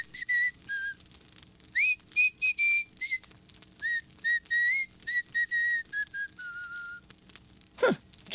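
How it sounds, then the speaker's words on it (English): A henchman whistling a tune in a cartoon: clear, close whistled notes in short phrases with brief pauses, ending with a sharp burst of noise. "All I remember is one of the henchmen whistling."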